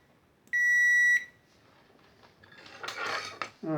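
A multimeter gives a steady continuity beep of about half a second while probing the circuit board of a Panasonic TV remote, followed by faint handling clicks and scraping with no speech.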